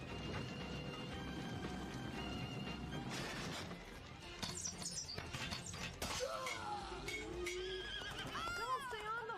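Horses whinny sharply and hooves clip-clop amid a chaotic anime battle scene, with crashing and shattering noises and shouting voices over the top.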